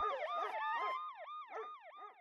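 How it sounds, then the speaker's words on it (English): An emergency siren wails in fast repeated rising and falling sweeps, several cycles in a row, loud and close with no other sounds around it. "or a siren."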